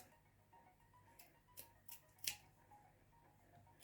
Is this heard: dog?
no